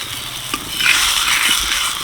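Drumstick paratha frying in white oil on a very hot tawa, a loud, close sizzle that swells briefly with a few soft crackles.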